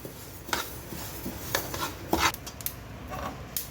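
Flax seeds roasting in a pan give off scattered, sharp little pops and crackles at an irregular rhythm, mixed with faint scraping, at close range and moderate volume.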